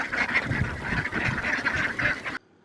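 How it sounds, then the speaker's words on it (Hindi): A flock of farm ducks, released in the morning to go to a pond, quacks steadily and densely, a continuous chattering chorus close by that cuts off abruptly just before the end. "यहाँ देखिए बत्तख खा रहे हैं कितने झुंड में"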